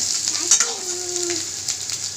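Potatoes fry in hot oil with whole cumin and a bay leaf, a close, bright sizzle with quick stirring scrapes over a short stretch.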